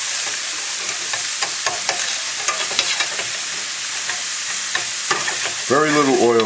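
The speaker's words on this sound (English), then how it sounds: "diced garlic. We'll let this saute for a few minutes." Diced garlic sautés in a little oil in a pan for a chicken leg étouffée, a steady bright sizzle with scattered stirring scrapes and clicks, then a voice-like harmonic sweep near the end, no talk.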